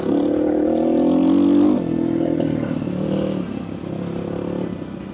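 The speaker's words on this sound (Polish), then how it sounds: "No i ta kultura pracy silnika, nie? Czterozawórówka jednak robi robotę." An ASIX XT97 motorcycle with a four-valve engine rides off-road, its close, loud engine holding a steady drone that dips in pitch around two seconds, then settles into a slightly lower, uneven hum.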